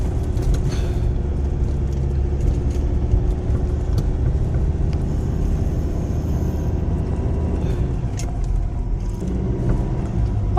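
Pick-up truck in 4x4 mode climbing a very steep rural road in Camarines Sur, a steady loud low engine drone and road rumble filling the whole clip with no talk over it.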